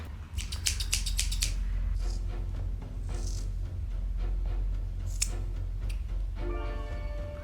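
Scissors snipping into a novelty sponge, a quick run of sharp metallic clicks at the start followed by scattered single cuts and squishy rustles, close and clear with no voice.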